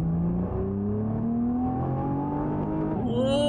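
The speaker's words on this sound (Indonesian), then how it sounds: "Oke, kita akan coba tes akselerasi gaspol." A Nissan GT-R R35 Nismo accelerating hard at full throttle from second gear, its engine note climbing steadily and loudly, then dipping briefly at a shift before rising again, heard close from inside the car.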